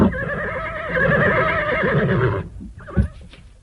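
A horse neighs loudly in a long, quavering whinny, followed by a few hoof clops and a short snort, staged as a radio drama sound effect.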